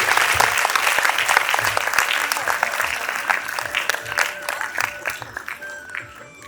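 Audience at a school annual day applauds steadily, a dense wash of many hands clapping that slowly thins toward the end, with some crowd noise underneath.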